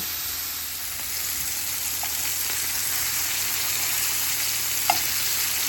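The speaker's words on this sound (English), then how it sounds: "you want to hear a sizzle when you put them in the pan" Steady, broadband sizzling of meat patties (sliders) frying in a hot pan, continuous and fairly loud, with a faint clink or two and no talking.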